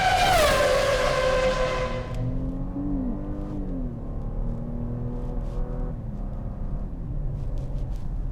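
A 2017 Lincoln Continental Reserve pulling away on the road, engine revving up strongly then settling into a steady lower cruising hum with faint tire and road noise, heard from inside the cabin with no talk.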